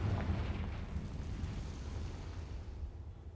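A Confringo blasting spell in Hogwarts Legacy erupts as a sustained, dense roaring blast in a video game, heavy low rumble filling the whole moment without any pause.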